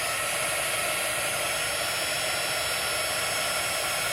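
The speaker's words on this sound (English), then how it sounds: "we're going to turn on our heat gun" A heat gun blows hot air over emboss crystals, a steady, loud, even whoosh that holds unchanged throughout.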